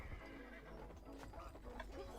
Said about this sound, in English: Now we've got horse archers up on top of the hill.